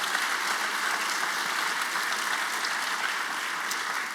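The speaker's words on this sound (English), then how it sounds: "Let's give everyone a round of applause for the support." Steady applause from an audience at a first-generation student celebration, even, continuous clapping at moderate volume across the whole stretch, fading slightly at the end.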